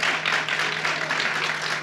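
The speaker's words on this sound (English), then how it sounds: "So let's give them one more round of applause." An audience at a sickle cell awareness illumination ceremony applauds, a dense, steady wash of many hands clapping, fairly close and continuous throughout.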